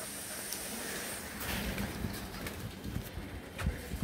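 A female Giribaz high-flyer pigeon coos softly in low murmurs, partly buried in steady broadband background noise.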